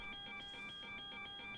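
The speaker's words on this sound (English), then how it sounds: "That alarm's very annoying. I've never heard that alarm before." A cockpit alarm sounds in the PMDG 737-700 in Microsoft Flight Simulator, a steady electronic tone pulsing in a fast, even rhythm. It repeats about eight times in under two seconds and is clear and continuous, with no voices over it.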